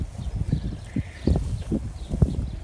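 Horses on a farm shift and stamp close by, giving a string of irregular soft thuds and hoof knocks over a low outdoor background, with no talking.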